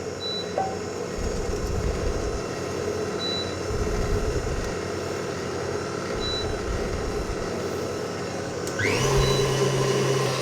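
An electric mixer whips batter for a lemon roll cake: a loud, steady motor whir with continuous mechanical hum that shifts to a higher, tighter drone near the end as the speed changes.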